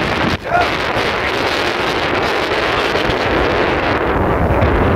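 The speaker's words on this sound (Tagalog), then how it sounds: "Lakas ng hangin." Strong wind on a cold summer outing in Japan buffets the microphone in a loud, continuous broadband roar, with a brief dropout near the start and no talking.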